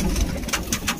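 Pigeons at a pigeon club coo in short low rolls close to the microphone, with a few brighter rustling bursts between the coos.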